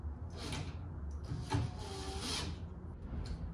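Power driver running 1 5/8 screws through coping into a wooden skate ramp slap pad: several short whirring bursts of drilling, separated by pauses, over faint background noise, with no voices.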